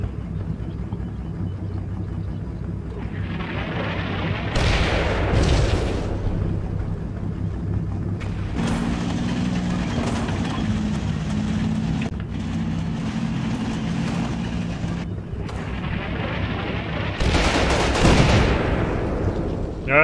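Several booming tank and artillery shots in the video game Combat Mission, each a loud burst with a rumbling tail spaced across a steady low background, with a voice speaking now and then.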